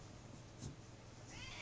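A kitten meows indoors, a short clear call rising briefly above a quiet room, heard alone without talk.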